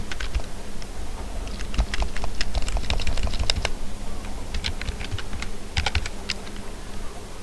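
Someone types on a computer keyboard, a fast, irregular run of close, crisp key clicks with a short pause partway through, then another burst of keystrokes.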